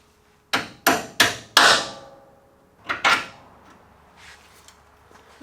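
Hammer blows on the rear axle of a 1955 Ford Fairlane: four sharp, ringing metallic strikes in quick succession, a pause, then two more, each with a short metallic decay, close and loud with no talking.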